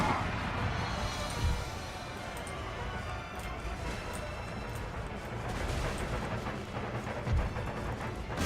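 Mortar artillery fires in an Empire Total War battle: dull, distant thuds land twice within a steady wash of battlefield noise and rumble.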